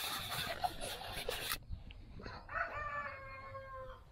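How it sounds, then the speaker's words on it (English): A rooster crows once, a drawn-out call at moderate distance, following a burst of broadband noise at the start. "The rooster saying hello."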